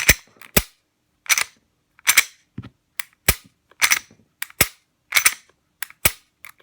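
On a table, a Smith & Wesson M&P 9mm full-size striker-fired pistol gives a run of sharp, crisp dry-fire trigger clicks and resets. They come as paired snaps roughly every half second, close and loud with silence between them.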